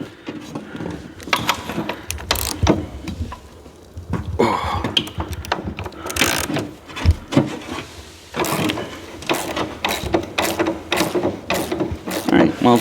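A nut is tightened onto a rethreaded part of a 1971 Ski-Doo Olympic snowmobile, producing close metallic ratcheting clicks and mechanical scraping in uneven runs, with a cough or murmur now and then.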